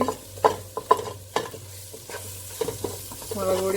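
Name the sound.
stirring mango powder into chole curry masala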